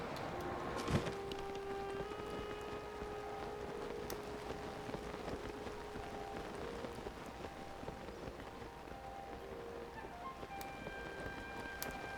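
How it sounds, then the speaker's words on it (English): Rain pours in Tears of the Kingdom, a soft, constant hiss of drops on surfaces with occasional faint clicks and footstep-like taps, heard alone at low level. "Oh my god, this rain!"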